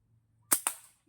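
A slingshot fitted with a laser sight fires a 9 mm steel ball, giving two sharp, close cracks in quick succession, followed by a faint low tap, with no speech.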